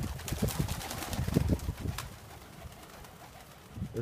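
Young pigeons in a loft give repeated low, throaty coos, rising and falling in close overlapping bursts, with a softer stretch and light rustling before cooing picks up again. No one speaks.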